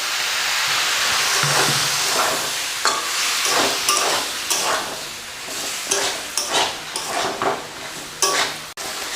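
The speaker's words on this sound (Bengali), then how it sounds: "এখন সামান্য একটু জল দেব আমি।" Liquid splashes into a pan of sizzling jackfruit curry, stirring and frying hiss continuing close by with scraping and clinks of a utensil, no voices.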